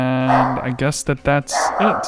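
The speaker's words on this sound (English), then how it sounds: "I hear a dog. That's mine." A dog barks a few times in short bursts close by, mixed in with someone speaking over it.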